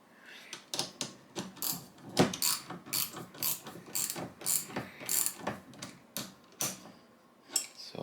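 Roller handle mechanism on a Lee APP press being worked by hand, giving a run of close, quick ratcheting clicks and mechanical clatter in irregular bursts, fairly faint throughout.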